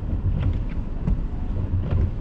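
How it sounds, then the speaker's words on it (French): Snow squall gusts near 50 km/h buffet the microphone outdoors in Laprairie in February, producing a low, uneven rumbling roar with a few sharper gust peaks, fairly quiet and without speech. "On a des rafales à 51 km"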